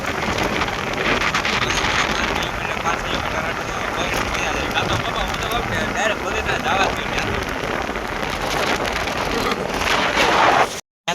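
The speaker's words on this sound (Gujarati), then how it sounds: "વરસાદ તો ઓછો થઈ ગયો છે. હાલ થોડો ઘણો છે." Light rain keeps falling in a dense, even hiss across the whole stretch, close and loud against the microphone, before cutting off abruptly at the end.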